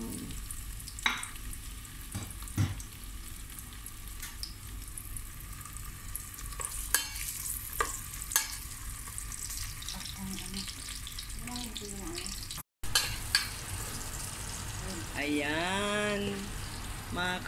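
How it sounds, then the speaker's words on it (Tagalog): Onion and garlic sizzle together in hot cooking oil while being stirred, at the start of a leftover-chicken lunch dish. A steady frying hiss runs throughout, broken by utensil scrapes and clinks. Near the end, a voice speaks briefly over the sizzle. "malapit na maging brown ang bawang at ang sibuyas"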